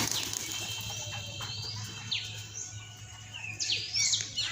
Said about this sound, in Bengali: তার অনেকগুলো কবুতর আছে।